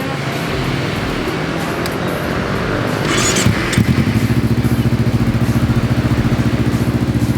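A Kawasaki Ninja Z250SL motorcycle with a Shimura exhaust starts up from a background hum, cranking briefly and then settling into a loud, close, evenly pulsing idle.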